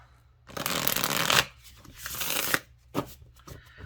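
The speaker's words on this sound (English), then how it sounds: "then I usually just bless them and shuffle them up a couple of times and we're good to go." A deck of tarot cards being shuffled by hand, with two long riffling bursts followed by a few short sharp card snaps, close and clear with no talking.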